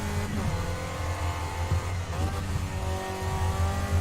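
Race car engine roaring steadily around a track in a VR racing game, the short-wheelbase car holding a loud, continuous mid-pitched drone with small rises and dips as it is revved through the corners.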